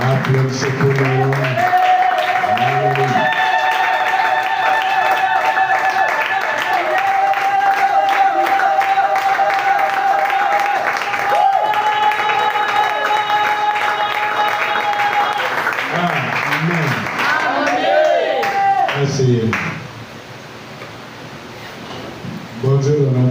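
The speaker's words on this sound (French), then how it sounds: "Applaudissez pour le Lord." Church congregation clapping under a loud voice that sings or calls out continuously, the applause a constant wash beneath, dipping briefly near the end before resuming.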